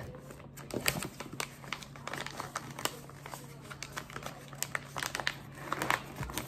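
Paper being folded and taped into a triangle for a DIY trophy plaque: a steady run of close crinkles, creases and sharp tape clicks and snaps, quiet and alone with no voices.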